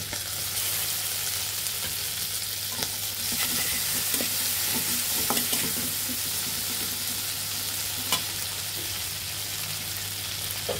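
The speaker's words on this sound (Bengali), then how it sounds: "সামান্য পরিমাণের মতো লবণ দিয়ে ভালোভাবে কষিয়ে নিতে হবে" Chopped onion sautés with ginger, garlic and salt in a hot pan, producing a dense, steady sizzle broken by repeated scraping strokes of a stirring spoon, close and unbroken with a faint hum below.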